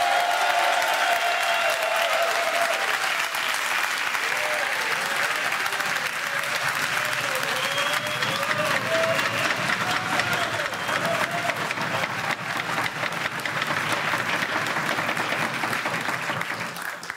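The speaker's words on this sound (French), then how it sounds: "On va vous applaudir parce que franchement vous avez été exceptionnels." Long, dense applause from an audience at a carnival quiz show, holding steady and loud throughout, with a faint tonal voice or whistle weaving briefly through the clapping.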